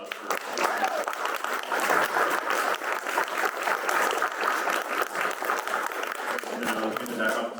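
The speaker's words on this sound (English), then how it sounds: "Let's give them an applause for." A crowd applauds steadily for several seconds at a candidate forum, a dense even wash of clapping that stays constant throughout.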